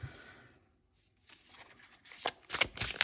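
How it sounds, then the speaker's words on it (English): Tarot cards being shuffled by hand, soft papery riffles building into louder, brisk flutters toward the end, close and alone without talk. "that's just bad shuffling on my part"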